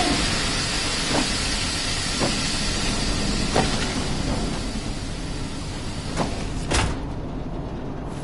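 Steam hisses through a steam system in the VR game Metro Awakening, a broad continuous rush with a few sharp clanks and bursts scattered through it, ending in a louder puff before it thins out.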